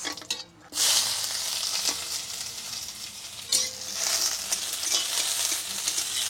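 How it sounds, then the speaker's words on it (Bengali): Garlic and onion hit hot oil with mustard seeds in a wok over a clay stove, bursting into a loud, steady sizzle that carries on close by with a brief stir partway through; no one speaks. "আর এখন দেবো রসুন আর পেঁয়াজ।"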